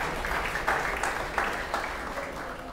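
A church congregation claps together in steady, enthusiastic applause, a dense patter of many hands filling the room at moderate volume.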